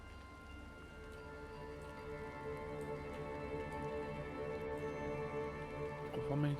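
Steady rain falls in the video game Atuel, a soft continuous patter that builds slightly over several seconds and is heard alone, ending with a brief brighter sound.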